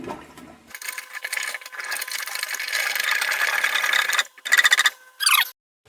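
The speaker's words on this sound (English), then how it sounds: "Just use a regular little plumber's helper. Just force it down and around the trap." A plumber's helper forcing water down and around a toilet bowl trap, producing a long sloshing, gurgling rush followed by a few short wet bursts and squelches, close and loud, ending in silence.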